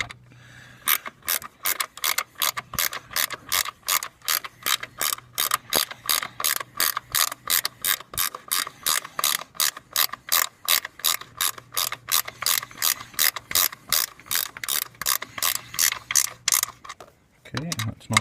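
A hand ratchet clicks in a fast, even series of sharp pawl ticks while tightening bolts on a Jeep Cherokee 4.0L engine during oil pan and water pump work, close and continuous for most of the stretch.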